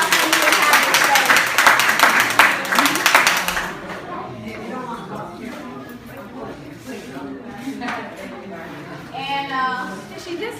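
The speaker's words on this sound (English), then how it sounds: "Please give them a round of applause" Audience applause at an open mic night in a praise center, a loud burst of many hands clapping for about four seconds, then fading as a host's voice and scattered chatter take over.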